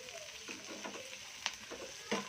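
Capsicum pieces frying in a pan for gobi manchurian, a soft continuous sizzle broken by several sharp scraping stirs of a spatula against the pan, with no voices.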